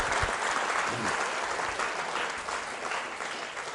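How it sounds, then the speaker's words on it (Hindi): An audience at a school quiz show gives a contestant a sustained burst of clapping, a thick, even wash of many hands that eases slightly toward the end. "जोरदार तालियां बजाइए, जोरदार तालियां बजनी चाहिए"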